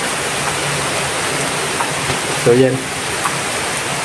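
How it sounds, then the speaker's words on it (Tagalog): Heavy rain pours steadily on a rainy afternoon, a loud dense continuous hiss close by, with someone briefly talking over it. "maulan na hapon mga kababayan, maulan na araw."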